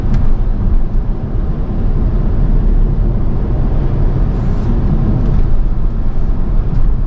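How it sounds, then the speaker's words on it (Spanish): A BMW X6 40d pulls hard after dropping two gears, its engine giving a loud, rough, steady roar that stays close and unbroken throughout. "Ha tenido que bajar 2 marchas para salir rápido."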